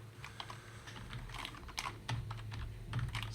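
A computer keyboard is typed on in quick, irregular bursts of soft clicks, close and fairly quiet, over a low steady hum.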